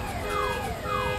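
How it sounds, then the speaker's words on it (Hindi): Vehicle sirens wail, sweeping up and down over street noise, several overlapping at moderate distance in a blocked-off area in Uttarakhand. "और आसपास गाड़ियों के साइरन भी आपको सुनाई दे रहे होंगे।"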